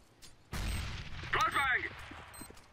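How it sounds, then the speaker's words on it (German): A flashbang grenade in Counter-Strike: Global Offensive goes off with a sudden loud bang followed by a ringing, warbling tone, while a voice calls out over it. "I am throwing a flashbang."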